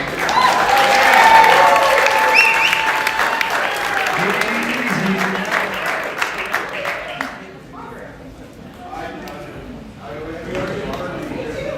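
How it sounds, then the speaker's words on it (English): A crowd applauds the artists at a small evening music show, loud sustained clapping near and dense at first, then thinning into scattered claps with a few voices and cheers. "another round of applause for all the artists tonight"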